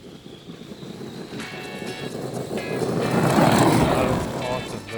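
A DHK Hobby 8384 Zombie RC monster truck runs at full throttle outdoors, a whining electric motor that swells louder toward the middle and then eases, with people talking over it.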